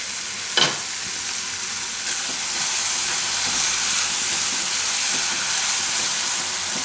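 Raw green tomato curry sizzles and hisses steadily in a pan, a bright continuous frying crackle with a brief clink near the start and faint stirring scrapes.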